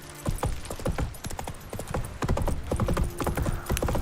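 Roach the horse gallops in The Witcher 3, steady clip-clop hoofbeats pounding fast and close throughout, with a brief whinny-like bit and no talk.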